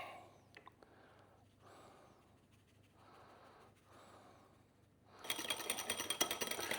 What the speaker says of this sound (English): Just add the other half and keep whipping.